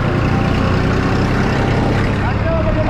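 A tractor engine rumbles on a road in India, a steady close drone with traffic noise around it and speech mixed in.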